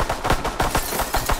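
Rapid automatic gunfire in Call of Duty: WWII, a quick burst of about eight sharp, evenly spaced shots, loud and close, with no talk.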